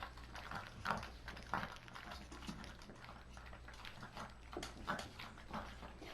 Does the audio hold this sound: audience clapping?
no